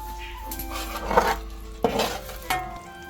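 Quail pickle cooking in a pan as vinegar comes to a boil, with a few scraping stirs and pan clatters over a faint steady hiss, close by and with no talk.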